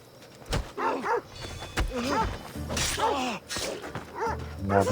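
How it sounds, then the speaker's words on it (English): A dog barks repeatedly in the video game Assassin's Creed Odyssey, several sharp close barks in an uneven rhythm with brief thuds between them. "Now the dog, for its barking, gives the game away"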